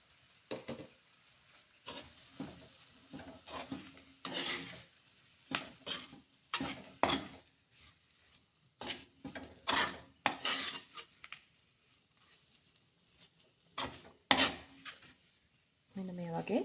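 Boiled mushrooms being stirred into fried garlic and curry leaves in a pan, repeated close scraping and clinking spatula strokes in uneven bursts over a faint sizzle, with quiet gaps between.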